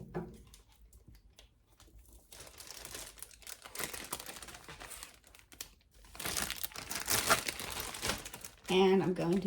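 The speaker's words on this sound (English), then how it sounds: "take them and put them inside a Ziploc bag" Plastic zip-top bag rustling and crinkling as roasted poblano peppers are placed inside, uneven crackles building louder toward the end, with speech heard in parts.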